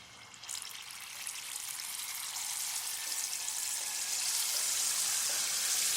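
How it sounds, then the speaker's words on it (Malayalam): Steady hissing sizzle of batter hitting hot oil, growing a little louder and brighter as it goes on, with no voices. "ചട്ടിയിൽ എണ്ണയൊക്കെ ഒഴിച്ച് ചൂടായിട്ടുണ്ട് നമുക്കത് ഒഴിച്ചു കൊടുക്കാം"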